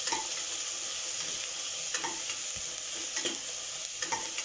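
Chopped onion for Parsi chicken dhansak sautés over low heat in a pan, a soft continuous sizzle with occasional light scraping strokes of a spatula, fairly quiet and without talk.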